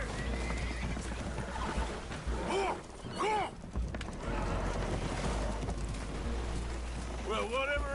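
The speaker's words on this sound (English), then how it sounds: "Horses are spooked, and we're taking on water." Spooked horses neigh and whinny aboard a damaged, leaking boat in the Red Dead Redemption 2 video game, several shrill whinnies over a constant rumble of water and wind, with voices speaking in between.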